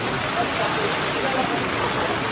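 Steady rain falls across the whole span during a daytime trek, a dense, even hiss with no break, loud and close like heavy drops drumming on surfaces nearby.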